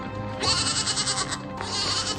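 Goats bleat from a Severance TV episode playing back, two wavering, nasal cries in close succession, fairly loud and alone with no talk over them.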